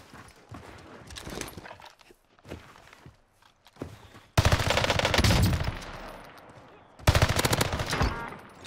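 Video game gunfire from a Fennec submachine gun: scattered quieter shots first, then two dense, loud bursts of rapid automatic fire, the first lasting about two seconds.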